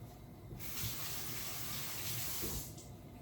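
Water gushes steadily from a kitchen tap for a couple of seconds while food is rinsed during brunch preparation, a continuous close splashing flow that starts abruptly and then tapers off.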